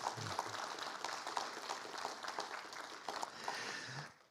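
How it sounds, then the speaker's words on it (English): Applause from a church congregation at a spiritual living center service, a steady moderate wash of many hands clapping for several seconds, fairly distant and even, with no talk over it. "why don't we give him a round of applause in absentia anyway?"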